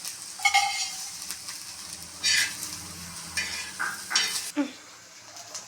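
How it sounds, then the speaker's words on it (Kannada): Onions frying in a little oil in a pan for keema curry, with soft sizzling, stirring scrapes and the clink of utensils against the pan coming in short bursts up close. "ಈರುಳ್ಳಿಗೆ ಒಂದು ಸ್ವಲ್ಪ ಎಣ್ಣೆ ಹಾಕಿ ಹುರಿತಾ ಇದ್ದೀನಿ"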